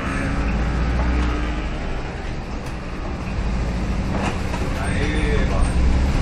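A Volkswagen Kombi van rolls slowly through a pothole on a poorly maintained road, giving a rumbling, rattling engine and road noise with bumps from the body.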